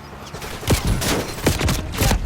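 Rapid bursts of gunfire from Call of Duty Warzone in Resurgence mode, several loud close volleys crackling one after another across a dense, noisy firefight with no talking.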